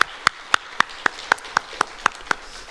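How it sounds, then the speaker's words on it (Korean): A church congregation at a Friday sermon claps in praise, about ten sharp, evenly spaced claps in a steady unison rhythm over a quiet room. "우리 주님께 영광의 박수, 감사의 박수 올려드리겠습니다"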